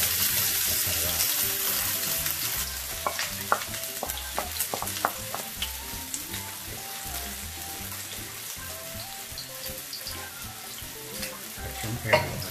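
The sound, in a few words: minced chili frying in a pan for palabok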